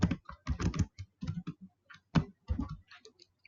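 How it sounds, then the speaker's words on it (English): Rapid bursts of keystrokes on a computer keyboard, close and fairly quiet, with short pauses between clusters of clicks and no talking. "And I'm gonna type"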